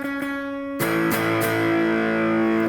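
A distorted electric guitar through a Marshall JCM 800-style amp rings out a sustained chord in A, with a few sharp strummed attacks on the chord and a buzzing overdriven tone that carries throughout.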